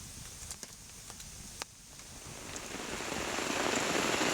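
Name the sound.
heavy rain falling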